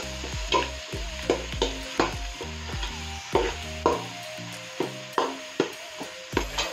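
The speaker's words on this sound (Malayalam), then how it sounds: "ഇട്ടിട്ടൊന്ന് ഇളക്കുക" A spoon stirs tomato and garlic, chili and ginger pastes frying in a pan, scraping in a steady rhythm over a soft, continuous sizzle, close up and with no talking.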